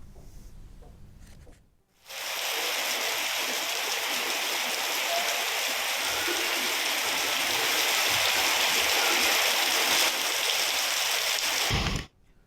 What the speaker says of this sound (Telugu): హైదరాబాద్లో కుండపోత వాన పడింది